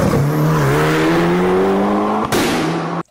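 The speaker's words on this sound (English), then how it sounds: "So traditionally that noise, the Burble Tune would be for like high performance things like rally cars." A BMW E46 drift car with a burble exhaust tune drones loudly and close, its engine note climbing steadily, then breaks with a sharp crack before cutting off abruptly.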